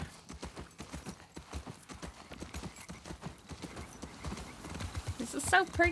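Hooves clip-clop at a steady rhythm as a horse is ridden through a forest in the video game The Last of Us Part 2, close and clear, with a person talking over it and a short whinny near the end.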